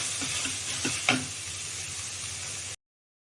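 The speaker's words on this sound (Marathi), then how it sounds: "आपण आता कढईत मुळा टाकून घेतलेला आहे आणि त्याच्यातलं सर्व पाणी कमी होईपर्यंत तो परतायचा" Grated radish stir-frying in a dry pan with no oil, a soft steady sizzle and hiss with a few light scrapes and a knock as it is stirred, fairly quiet and with no talk.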